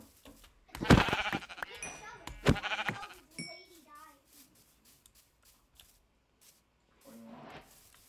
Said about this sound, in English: Let's get these sheep